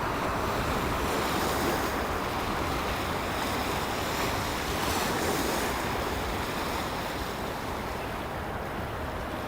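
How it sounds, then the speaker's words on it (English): Waves on the East River in New York City lap and wash continuously, a broad steady surge of water mixed with wind rumble, loud and close throughout with no voices. "I think the water sounds are very calming"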